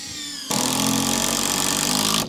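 A power driver runs steadily for nearly two seconds, driving a screw down into a timber wall frame during garden room construction, a loud continuous whir that cuts off abruptly at the end.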